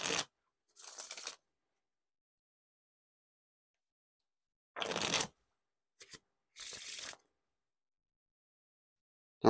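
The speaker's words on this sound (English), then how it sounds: "They got a nice smooth riffle to them." Three or four short, crisp bursts of 1st Playing Cards v2 deck being riffle shuffled, separated by silent pauses, with no talk.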